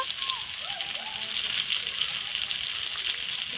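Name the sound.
chicken seekh kebabs searing on the grill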